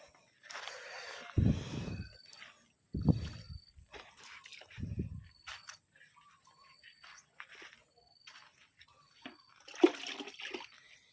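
Water splashes and pours onto chili plants in several short bursts, close by, with quiet gaps and faint rustling between them.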